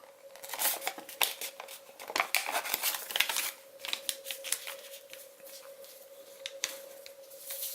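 Origami paper being folded and creased by hand, with dense crinkling, rustling and sharp crease snaps in irregular bursts, fairly close and moderately loud, alongside a faint steady hum.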